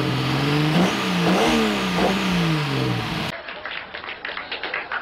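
A four-cylinder car engine revs hard several times at a car meet, the pitch rising and falling in quick surges, then the sound drops to a rougher, choppier idle with background clatter.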